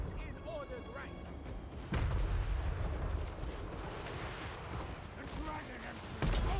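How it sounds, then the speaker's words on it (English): Cannon artillery fires in the Total War: Warhammer III video game during a battle: deep booming volleys, with two heavy blasts at the start and near the end over a rumbling battlefield din, and talk running underneath. "Those cannons just sound so great."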